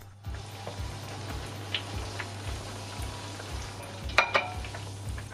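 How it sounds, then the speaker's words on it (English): Steady crackling sizzle of food frying in a pan, with a low hum underneath and a couple of sharper pops near the end. "So while the second one finishes frying"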